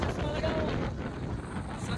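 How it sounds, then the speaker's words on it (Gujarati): Strong wind buffets the microphone on a rainy hillside outing near a waterfall, a constant rough rumbling gust with no breaks over two seconds. "પવન ફૂલ છે"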